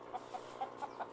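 Gamefowl chickens at a farm, giving several soft, faint clucks in a quick even rhythm over a steady low background hum.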